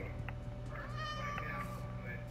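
Meowing from a cat in a video game, a few short mews sounding over a steady hum of background game sound, with a voice faintly mixed in.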